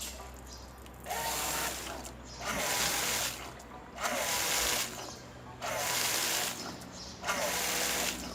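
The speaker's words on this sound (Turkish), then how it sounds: "gördüğünüz gibi far yıkama sistemimizin motoru oldukça sağlıklı bir şekilde çalışıyor" A car headlight washer pump motor runs in five short bursts of about a second each, spraying water, a buzzing whir with a wet hiss that starts and stops in a regular rhythm, fairly faint and close.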